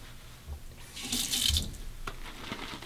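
Water runs from a tap into a shaving bowl, a short gush that swells in the middle then eases off, close and moderately loud with no voices.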